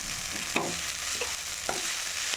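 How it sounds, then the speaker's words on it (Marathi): Rice fries with green chillies in a pan, sizzling steadily while a spatula scrapes through it in three distinct stirring strokes, close and fairly quiet. "राईस बघा फ्राय होत आहे छान याला पाच मिनिट फ्राय करायचा"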